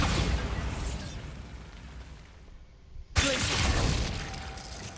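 A Bombarda explosion spell in Hogwarts Legacy, heard as a sudden sharp blast after a brief quieter lull, then a rumbling, crackling burst carrying on over continuous game noise.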